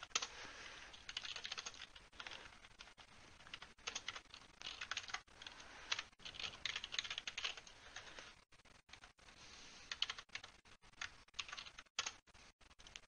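Rapid clicky keystrokes on a computer keyboard as a sudo nano command is typed to edit the hosts file, coming in quick, uneven bursts with brief pauses, quiet and close with no talking.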